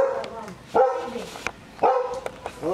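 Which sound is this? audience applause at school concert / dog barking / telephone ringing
dog barking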